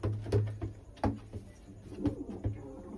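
A pair of Kaldum pigeons, a male and a female, coo in short repeated throaty bursts with brief pauses between them, close and fairly clear.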